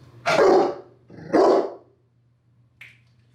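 Two deep, loud barks from a Rottweiler close by in quick succession, followed by a short sharp click, over a faint low hum.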